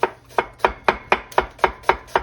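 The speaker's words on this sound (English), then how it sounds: "Let me get these onions sliced up." Onions are sliced with a knife on a cutting board in the kitchen, giving nine crisp, evenly spaced knocks in a steady rhythm, close and clear with no talking.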